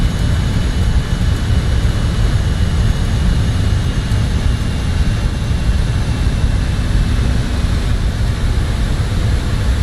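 Steady, loud roar of a jet aircraft's engines in Microsoft Flight Simulator while flying over Uganda, a constant broadband rumble with a faint whine above it, holding even throughout with no talk.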